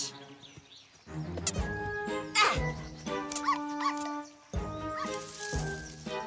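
Cartoon dog in a children's animated series yaps and barks in short bursts over music and sound effects, with brief spoken lines around it.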